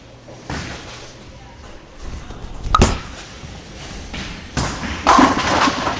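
At a bowling alley on a 45-foot Route 66 oil pattern, a ball rolls down the lane and strikes the pins. A heavy thud is followed by a loud clattering crash of pins.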